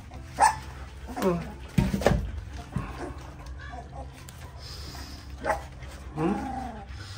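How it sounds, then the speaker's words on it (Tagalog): Belgian Malinois puppies bark and yelp in short, scattered bursts near the listener, with a few whimpers between louder yips. "May tumatahol pa, Ton, you eat."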